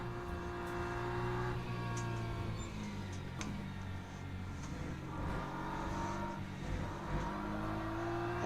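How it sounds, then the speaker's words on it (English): Racing engines roar in Assetto Corsa as a Ferrari race car drives past, with layered high-revving whines shifting pitch and swelling as cars approach and pass, continuous and fairly close. "And there goes the Ferrari."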